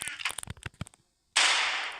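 A rapid burst of sharp pistol pops and clicks in the video game S.T.A.L.K.E.R., then a brief silence before a loud, sustained hiss of noise.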